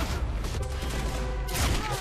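Gunfire from the video game Quantum Break rings out in a quick volley of close, punchy shots, followed by a heavier blast near the end.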